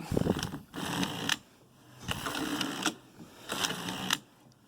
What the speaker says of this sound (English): And since right now I'm set for stockinette, normal knitting, on the back bed, let's do a few rows